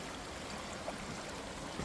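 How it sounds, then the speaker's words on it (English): A small waterfall cascades over rocks at a stream crossing in Red River Gorge, a steady, soft broadband rush of water heard from a short distance with no talking. "Right back here, there's a pretty little waterfall. Nice little cascade coming down the rocks back here."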